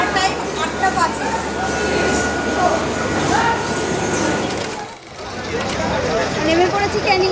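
A train rumbles and clatters steadily at a station, loud and near, with a brief dip midway before the noise rises again amid a crowded din of voices.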